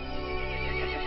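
A horse in a horror video game lets out a loud, close, wavering neigh lasting about a second, with no other sound.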